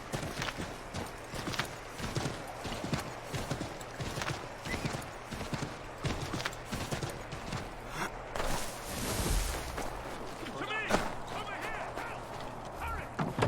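Rhythmic clip-clop of horse hooves at a steady trot in the video game Assassin's Creed III Remastered, with a brief burst of noise and a faint voice partway through.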